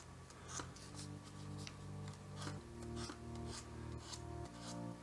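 Hand sanding a paint run with 150-grit sandpaper, quiet rhythmic back-and-forth rasping strokes over a low, steady hum, close up and without speech.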